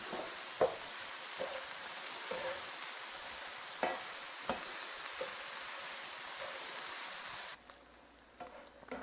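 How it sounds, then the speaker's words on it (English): Chopped bacon sizzling and browning in a frying pan, a steady loud hiss with occasional stirring clicks and scrapes, which cuts off abruptly near the end. "And you just want to throw that in the pan and brown it up."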